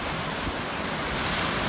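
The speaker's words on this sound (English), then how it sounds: "This beautiful open sea" Open sea waves wash continuously at a hidden rocky swim spot in Antibes on the Côte d'Azur, a steady broadband surf with wind noise buffeting the microphone.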